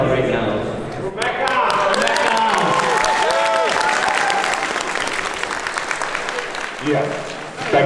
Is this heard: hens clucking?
no